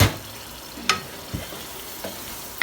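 Masala okra with tomatoes cooking in oil in a pan, a soft steady sizzle with a few louder clicks of stirring spaced through it, close and fairly quiet.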